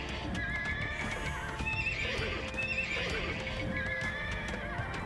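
Tarkan cavalry horses move across the battlefield in the Age of Empires II campaign, with clattering hooves, snorts and sharp neighs blending into a continuous, busy gallop at steady loudness.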